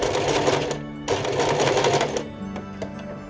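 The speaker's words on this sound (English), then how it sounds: "sew a straight stitch as close as possible to the first seam to help the scarf stand up" A sewing machine runs a straight stitch near a seam on an áo dài, a close rapid mechanical whir in two runs with a brief pause between, slowing to a few separate clicks at the end.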